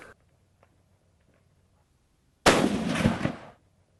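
A rifle shot fired at a target 300 yards away, zeroed at 200 yards: one sharp, loud report after a stretch of near silence, followed by a brief rolling echo that fades over about a second.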